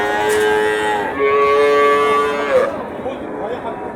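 A calf at a busy cattle market in Jaipurhat, Bangladesh, gives a long drawn-out moo that rises and falls, close and loud over a constant hubbub of crowd noise and livestock.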